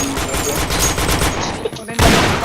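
Rapid bursts of gunfire from a shooting video game, dense and loud, firing continuously before a sharper burst near the end.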